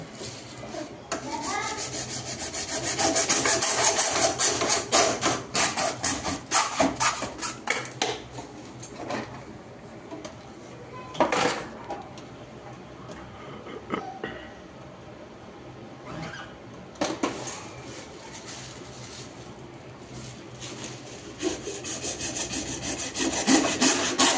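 A sink basin drain pipe being sawn in half by hand, repeated rasping back-and-forth strokes in uneven bursts, close and fairly loud, with pauses and someone talking between stretches of cutting.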